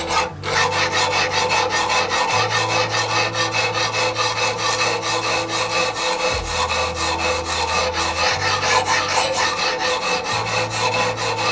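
Knife blade being sharpened on a Wicked Edge GO with 200 grit stones to remove an edge chip: steady, continuous raspy rubbing strokes, loud and close, with a low hum underneath and no speech.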